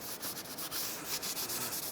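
Rag wiping the front brake surface of a 2007-2013 Mitsubishi Outlander after spraying brake parts cleaner, a steady close scrubbing rub with repeated short strokes, no talk.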